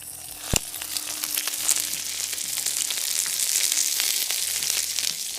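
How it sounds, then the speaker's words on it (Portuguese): Hash brown potatoes frying on a Blackstone griddle, a steady close sizzle with crackling pops and one sharp knock early on, rising slightly as it continues. "As batatas estão cozinhando há uns 5 ou 6 minutos sem mexer"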